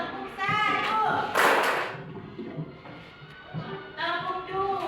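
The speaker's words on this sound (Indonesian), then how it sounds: "Oke, tepuk tangan dulu." Classroom group clapping hands together in rhythmic rounds, loud and close, mixed with voices of people talking and counting.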